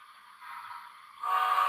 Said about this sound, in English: the whistle they got on number 19 now sounds pretty good as is